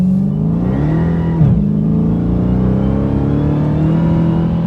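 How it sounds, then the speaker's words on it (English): A Dodge Hellcat accelerates hard on a road with gravel, its engine holding a loud, steady roar close by with a brief dip partway through; no one speaks. "You felt the wheel spin"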